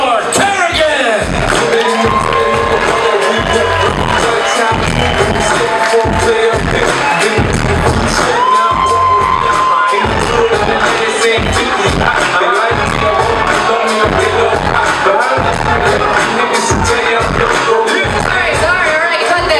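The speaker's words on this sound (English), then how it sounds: "A warm round of applause for Eleanor Kerrigan!" A comedy club crowd at The Roxy roars with sustained applause, cheers and whoops for a stand-up comedian, loud and continuous throughout with no gaps.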